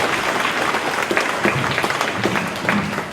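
An audience at a school reconciliation day assembly gives another round of applause, brisk and close-sounding clapping that continues evenly for a few seconds.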